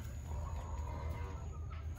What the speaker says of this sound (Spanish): Esto es una gallina criolla